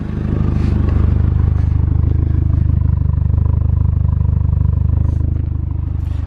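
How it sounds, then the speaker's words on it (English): Volkswagen MK4 GTI four-cylinder engine idling after repair, a close, steady low throb with an even rhythmic pulse and faint clattering on top, holding smooth throughout. "Do you hear the purr of that 4-cylinder engine?"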